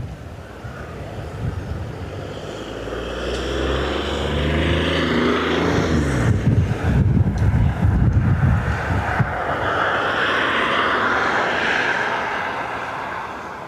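A British Airways Airbus A319 jet from Heathrow roars past at an airport, its broad engine noise swelling and holding loud for several seconds before easing, with buffeting wind over the microphone.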